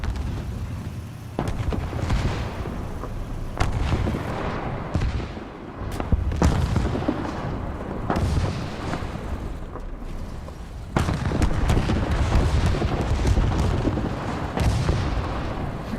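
Twin 20mm guns in War Thunder fire in sustained bursts with booming impacts, a loud continuous rumble broken by brief pauses between volleys.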